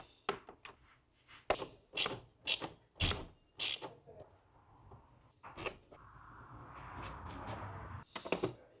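Close ratchet clicks from a 13mm socket on a BMW N54 engine: a burst of sharp, evenly spaced clicks, then a pause and a softer rasping stretch before a few final clicks.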